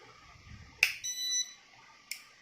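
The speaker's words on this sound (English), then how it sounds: "there is a buzzer beeping as normal UPS do" Short electronic beeps from the buzzer of a modified Intex UPS running off a 12V adaptor: a sharp click, a brief tonal beep, then another click, all fairly quiet and close.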